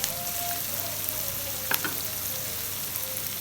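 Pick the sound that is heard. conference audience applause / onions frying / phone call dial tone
onions frying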